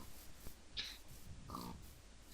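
A pig in the Minecraft video game grunts a couple of times, short snorting oinks standing out clearly over quiet game background with no talking.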